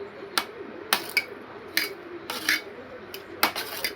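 A spoon stirs masala rice in a pot for chicken dum biryani, striking the metal rim in a handful of sharp, irregular clanks between softer scraping, with no talking.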